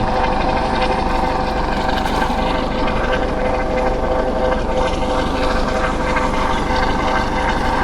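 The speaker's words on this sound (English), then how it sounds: "Hopefully y'all can hear me over the noise from the helicopter" Loud, steady thrum of a Coast Guard helicopter nearby overhead at a jetty on the coast, with rotor pulsing and engine whine continuing throughout, no voices.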